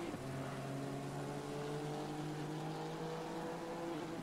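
Race car engine in the sim racing game Assetto Corsa Competizione, a steady high-pitched drone with sustained tonal harmonics that dip slightly near the end, loud and continuous with no talk over it.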